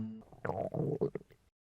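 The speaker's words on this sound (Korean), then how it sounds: "그래서 꼬르륵 소리가 멈출 줄을 몰랐어요." A cartoon sound effect of a hungry stomach growling: a short, gurgling rumble in several bubbly bursts over about a second, close and fairly quiet, fading out with no voices.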